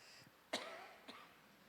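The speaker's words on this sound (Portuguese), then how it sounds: "Essa tosse é devido ao meu clima de 44 graus" A single sharp cough rings out in a quiet room, followed by a fainter second cough about half a second later, with no talking around it.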